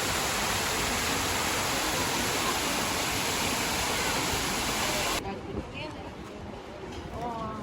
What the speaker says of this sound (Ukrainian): прохолодненько під фонтанчиком